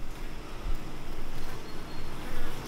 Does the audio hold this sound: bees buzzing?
yes